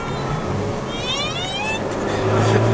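A Volkswagen MK7 Golf engine fitted with a Unitronic turbo elbow rumbles steadily with a rising whine, swelling louder toward the end, alone without talk.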